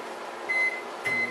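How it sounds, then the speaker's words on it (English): A microwave oven heating pre-cooked bacon runs with a steady low hum, broken by two short high electronic beeps, close and moderately loud with no talk. "I'm going to get this in the microwave going."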